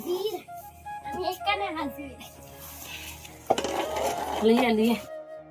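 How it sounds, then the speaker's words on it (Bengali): An iron wok of khurma sweets being taken off a switched-off stove, metal clanks and scrapes of the pan and utensils while someone talks. "চুলাটা বন্ধ করে আমি এখন কড়াইটা নামিয়ে নিলাম"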